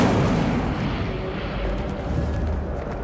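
A loud, sustained roaring burst from the Incendio fire spell cast in the game Hogwarts Legacy fills the whole stretch with a dense, rumbling whoosh.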